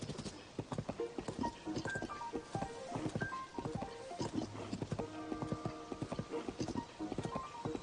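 Horse hooves clip-clop at a steady walking rhythm in Legend of Zelda Tears of the Kingdom, close and continuous, with an occasional whinny and background music.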